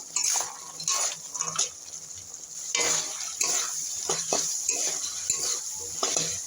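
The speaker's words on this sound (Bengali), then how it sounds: "বড়িটা দিয়ে আমি মশলার সঙ্গে একটু ভালো করে কষিয়ে নেব।" Fried lentil dumplings (bori) being stir-fried with spice paste in a pan, with steady close sizzling broken by repeated scraping and clinking of a spoon against the pan, no voices.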